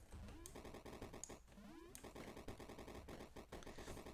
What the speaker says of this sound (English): there you can see as I'm shooting these guys, I'm getting points